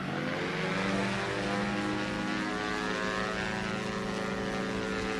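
An airliner in the X-Plane 11 flight simulator spools up for takeoff, a steady loud engine drone with layered tonal whine that holds constant throughout, with no voices.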